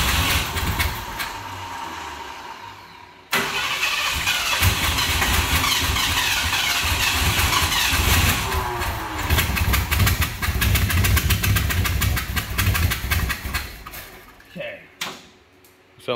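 A 1977 Ford short-bed truck engine with a bad exhaust leak cranks and catches, then runs loud and rough with a ragged, popping exhaust note for over ten seconds before cutting off, with a brief burst after.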